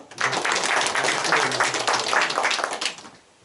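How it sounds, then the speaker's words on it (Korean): A church congregation breaks into a short burst of dense clapping to welcome a young man, full and close, holding steady for about three seconds before it quickly dies away. "박수 한번 할까요?"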